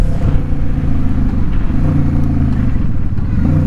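Motorcycle fitted with an Emgo-style cocktail shaker exhaust accelerating on a test ride, a loud close throaty engine rumble with pulsing harmonics rising and falling throughout.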